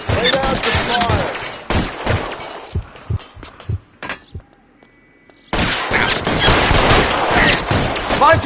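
Rapid automatic gunfire in a video game firefight, loud close bursts at the start, scattered single shots and thumps, a near-silent gap, then another sustained barrage.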